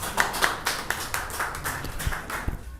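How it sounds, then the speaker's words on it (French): Audience applause for a poet at a literary club reading, a short burst of scattered hand claps mixed with broadband clapping noise, moderately loud throughout. "Applaudissez le poète."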